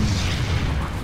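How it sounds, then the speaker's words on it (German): Explosion in the video game Planetside 2, a loud, deep rumbling boom filling the whole moment with sustained low roar, likely a tank blowing up in battle. "Der ist schön explodiert."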